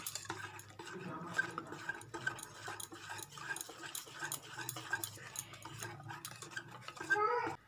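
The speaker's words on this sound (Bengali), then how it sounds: "এবার আমি এটা ভালো করে আবার মেশাবো" A spoon scrapes and clinks around a bowl as Christmas cake batter with baking powder is stirred at home, a soft, steady rhythm of mixing strokes at close range with faint utensil taps.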